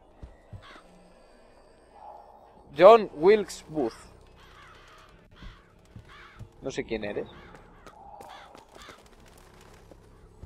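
Crows cawing in the video game Bioshock Infinite, several harsh caws in quick bursts, some loud and near, others fainter, mixed with game voices speaking.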